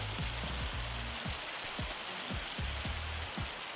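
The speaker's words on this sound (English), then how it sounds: "So let's get out of the hail." Hail in Farming Simulator 25 pelts down as a dense, loud, constant hiss of hard impacts. A run of low, repeated thuds sits beneath it.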